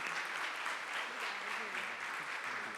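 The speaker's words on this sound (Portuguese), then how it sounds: "Dê uma salva de palmas a Jesus" Church congregation applause, a soft, steady wash of clapping hands heard at moderate distance throughout, with no talk over it.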